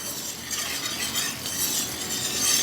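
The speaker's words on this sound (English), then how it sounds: "you want to give it a constant stir so that the flour browns at a constant same rate" Flour roux for gumbo being stirred constantly in a pot over medium heat on a stovetop, a continuous close scraping and faint sizzling hiss with no speech.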